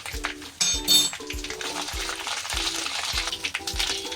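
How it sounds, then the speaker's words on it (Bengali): Asafoetida, green chilli and ginger fry in oil with a steady close sizzle, while a spoon or spatula scrapes and stirs the pan in a regular rhythm roughly every half second. "হিং, কাঁচা লঙ্কা, আদা ভাজা ভাজা হয়ে গেছে"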